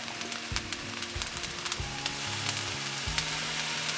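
Crab fried rice sizzles loudly in a hot pan as it gets stirred, a close steady frying hiss broken by scraping strokes and small pops, with no voices.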